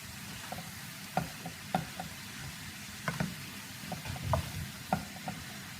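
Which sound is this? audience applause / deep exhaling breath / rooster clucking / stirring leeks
stirring leeks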